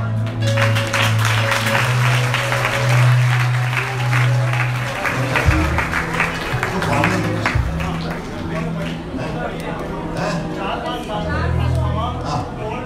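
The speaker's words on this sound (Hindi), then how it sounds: "चलो बजाओ ताली।" A congregation at a Christian deliverance gathering in Tanda, Punjab, applauds in a dense, sustained wash of clapping, loud and steady throughout, while amplified speech and musical tones carry over it.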